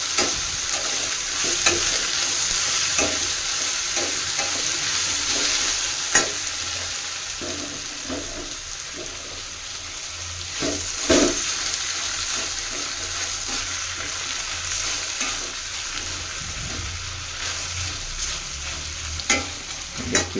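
Tomatoes roasting in a pan in a home kitchen, with steady frying sizzle and intermittent stirring clinks and scrapes throughout, close and moderately loud with no talking.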